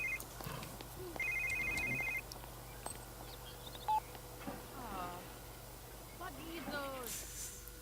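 A mobile phone rings in The Sims 3, a repeated electronic ringtone in short bursts over game music and character chatter, while someone talks over it.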